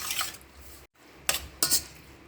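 Squid is mixed with oyster sauce, salt, fish curry powder and white pepper in a bowl. Brief bursts of utensil clatter and wet scraping come in three separate spurts, with a short silent gap.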